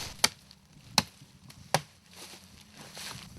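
Axe chops into wood in a forest, three sharp, separate blows about three-quarters of a second apart, close and distinct over quiet outdoor background.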